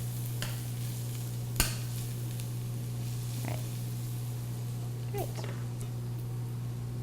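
Onions sizzling and browning in a pan, a soft even frying hiss under a steady low hum, broken by a couple of faint utensil taps and stirs.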